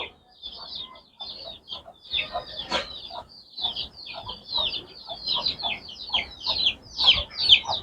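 Roosters cluck and call close by in a series of short, irregular bursts that grow louder toward the end, with quiet gaps between them.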